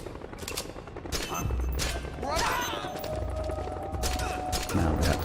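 Rapid gunfire with subsonic 5.56 rounds in a Metal Gear Solid game, a busy string of shots over game sounds and music throughout, with a voice talking.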